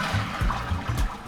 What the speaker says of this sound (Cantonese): 咁啊試下佢沖水先